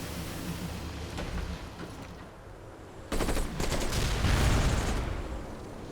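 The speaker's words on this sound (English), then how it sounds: "Attack jets being shot down by my needle jets" Rapid bursts of automatic gunfire rattle as needle jets shoot down attack jets in Civilization: Beyond Earth, with a dense, noisy barrage growing louder partway through.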